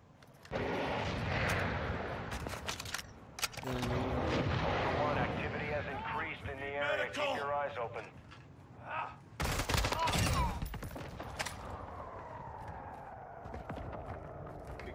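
Bursts of rifle gunfire and heavy blasts rattle through a firefight in Call of Duty Warzone 2 DMZ, with shouted player voice chat over the shooting and a loud final volley.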